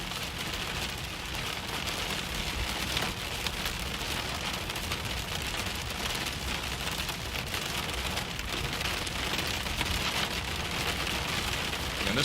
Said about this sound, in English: Sounds like there's some larger hail falling now,